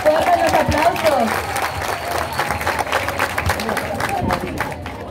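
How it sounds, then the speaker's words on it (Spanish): Applause from the crowd at a school year opening ceremony in Chilete, with scattered clapping and cheering under a voice speaking over a microphone throughout. "¡Fuertes los aplausos!"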